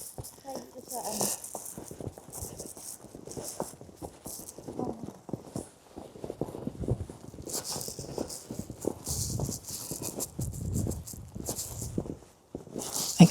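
Carabao hooves clip-clopping at a steady walking pace on a winter walk, close and fairly loud, with a rattling clatter mixed in and people chatting over them.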